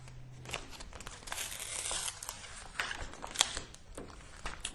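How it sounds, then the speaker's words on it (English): A vinyl sticker is peeled from its backing sheet during installation, making close crinkling and tearing rustles with a few sharper crackles over several seconds. "So I'm going to get the sticker off."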